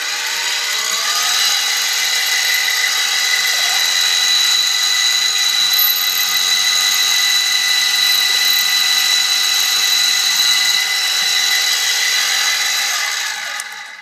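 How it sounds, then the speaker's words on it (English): A SIEG X2D mini mill runs steadily under power while drilling into a workpiece wet with cutting fluid, giving a loud, continuous motor whine with a bright high-pitched tone that holds for the whole stretch and fades at the end. "let's go ahead and turn on our motor again"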